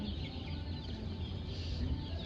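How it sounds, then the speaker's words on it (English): Many chicks in a store bin, including Rhode Island chicks: a dense, continuous chorus of high peeping and soft chirps, close and steady, over a low rumbling background hum. "There are many chicks"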